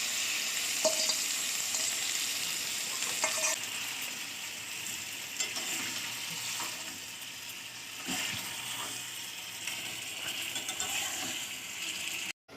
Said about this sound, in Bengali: আমি চিকেন দিয়ে ভালোভাবে কষাবো